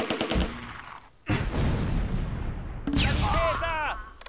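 Mortar fire in the Close Combat: A Bridge Too Far game, with sharp blasts and booms breaking through a dense rumble of battle, a brief gap of quiet before it resumes, and shouted voices toward the end.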